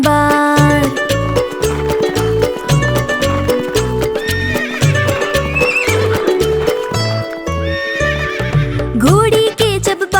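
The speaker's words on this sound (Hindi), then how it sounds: "घोड़ा दौड़ा टक पक" Within a children's Hindi rhyme song, a horse whinnies amid a steady, rhythmic clip-clop of hooves, all set over loud musical accompaniment that runs throughout.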